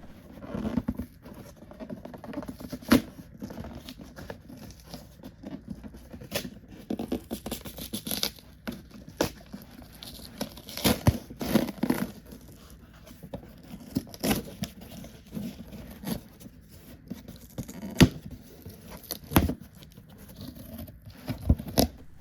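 Dry scratching and tearing rustles of a never-opened cardboard box for a Life Like Walt Disney World Railroad model train set being opened, with irregular scrapes and pops close by, no voices.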